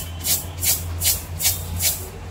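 Dry rice grains rattle and shake in a container in five evenly spaced bursts, a crisp rustling swish repeated about every second with a low hum beneath.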